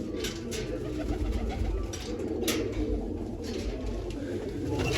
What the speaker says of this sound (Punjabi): ਕਬੂਤਰ ਵਧੀਆ ਬੈਠੇ ਗੁੜਕੀ ਜਾਂਦੇ ਆ